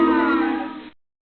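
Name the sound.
booing sound effect for landing on a snake in game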